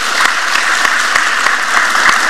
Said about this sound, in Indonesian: beri tepuk tangan